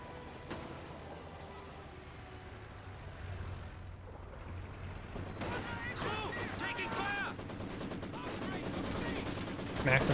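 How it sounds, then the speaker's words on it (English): A Maxim machine gun hammers away in Company of Heroes 2, quiet rattling fire building behind other battle noise as a commentator talks over it. "Maxim firing does suppress the Volksgrenadiers"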